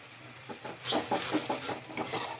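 Khichuri and chicken curry being stirred and fried in a pot with turmeric and chili powder: scraping strokes of the spoon against the pot come in a loose rhythm over a soft sizzle, close and fairly quiet.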